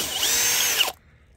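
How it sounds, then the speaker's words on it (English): A power drill bores a hole into wood for a mason bee house, a loud steady whine lasting under a second before cutting off abruptly to silence. "So you drill holes like this."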